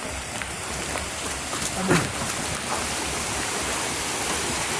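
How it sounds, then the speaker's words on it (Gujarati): Stream water from the hills rushes downhill on Datar Hill, Junagadh, in a continuous broadband roar, with a brief louder splash in the middle, steady and close by. "આ બધું ડુંગરાનું જ પાણી આવે છે"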